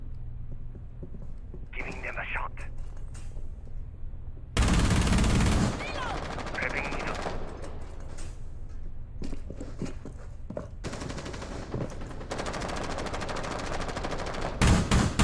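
A Castle barricade is shot through in Rainbow Six Siege, with bursts of loud close gunfire, a heavy blast of impacts and rapid automatic shooting, set among footsteps and team voice chat.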